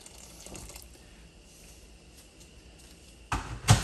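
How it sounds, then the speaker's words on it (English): Water poured into a pot of vegetarian beetroot soup with cabbage, a short splashing gush near the end after a quiet stretch of faint background hiss. "I'm gonna add a little more water."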